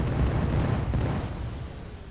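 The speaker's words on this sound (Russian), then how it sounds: "эти танки стреляют как артиллерия" Upgraded tanks in C&C Generals firing like artillery on a lobbed trajectory, giving a dense low rumbling boom that fades gradually.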